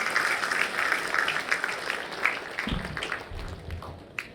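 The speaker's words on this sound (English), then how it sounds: "A big round of applause, dear students." A crowd applauding at a polytechnic college graduation ceremony, a dense patter of many hands clapping at moderate distance, thinning out toward the end with a low thump or two.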